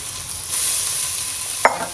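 Ginger, garlic and cumin paste sizzles in a hot pan, a steady close hiss that swells after a moment, with a sharp stirring clatter near the end.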